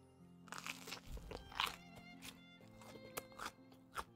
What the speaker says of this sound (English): You can hear how crunchy it is.